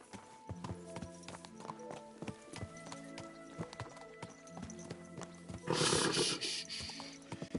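Horse hooves clip-clop in an uneven walking rhythm in the Kingdom Come 2 game world, mixed with harness jingles and a brief snort or whinny burst near the end, moderately close.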